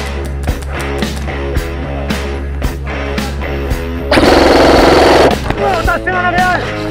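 Airsoft guns firing during an indoor asylum skirmish game, a rapid series of sharp pops with a dense burst of full-auto fire midway, while players shout.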